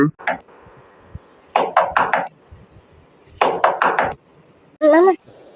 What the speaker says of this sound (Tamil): நம்ம ரூம் தான் யாரோ தட்டுற மாதிரி இருக்கு